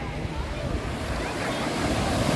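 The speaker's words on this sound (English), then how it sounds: "Man, these waves are horrendous." Ocean waves at a beach in Cabo, a steady roar of surf under gusty wind noise across the microphone, continuous and fairly loud throughout.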